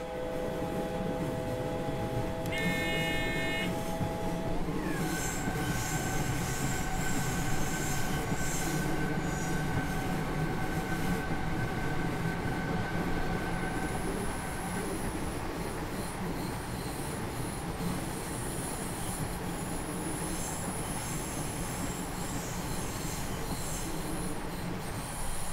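An S-Bahn train pulls out through Cologne in Train Simulator 2020, its wheels squealing in long high tones over a constant rolling rumble and faint clickety-clack, with no talking.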